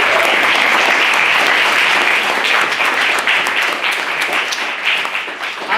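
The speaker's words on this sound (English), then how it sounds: "So can we get a round of applause for them, please?" A debate audience gives loud, sustained applause, a thick wash of many hands clapping close by that thins and eases slightly toward the end.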